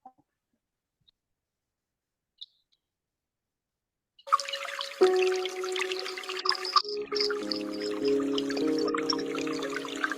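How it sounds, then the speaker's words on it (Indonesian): Trickling water played back through a laptop or phone speaker during an online meeting, a steady running stream that starts abruptly after several seconds of silence and continues moderately loud to the end. "Kedengaran ya suara gemericik airnya?"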